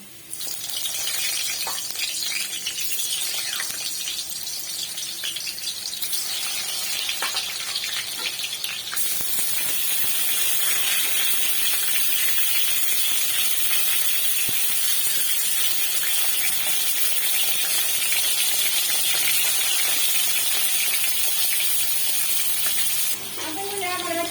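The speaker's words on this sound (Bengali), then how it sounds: "তেলের মধ্যে এখন আমি পটলগুলো আস্তে আস্তে ভেজে নেব" Pieces of pointed gourd (potol) fry slowly in oil in a wok, making a steady, moderate hissing sizzle that continues without a break.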